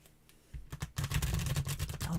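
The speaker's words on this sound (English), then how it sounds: "I'll give you the cards a good shuffle for you" Tarot cards shuffled up close, a quiet pause giving way to rapid, dense riffling and clicking of the deck that continues steadily to the end.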